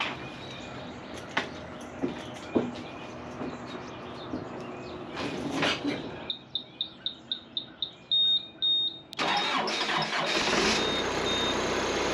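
A truck engine cranks with a rapid series of starter bursts, then catches and settles into a steady, fairly loud idle. Birds chirp in the background outdoors.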